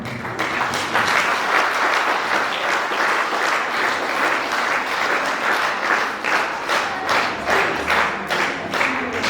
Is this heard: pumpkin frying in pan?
no